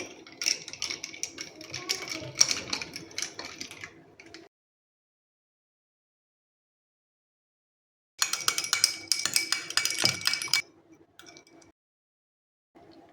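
Rapid clinking of a spoon against a glass in two bursts of stirring chana sattu sharbat with water, separated by a pause of silence, close and fairly loud.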